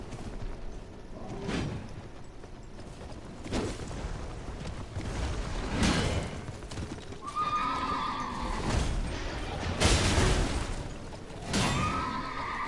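A horse whinnies several times in Elden Ring over a steady clatter of hooves, with whooshing effects and thuds mixed in, loud and close.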